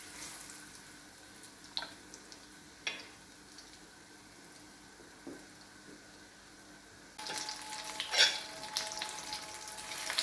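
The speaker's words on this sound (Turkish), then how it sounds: "Orta dereceli bir ısıda kızartacağım peynirlerimi." Slices of cheese are laid into hot oil over medium heat. The quiet hiss with scattered taps swells partway through into a strong, steady, close sizzle, with no talking.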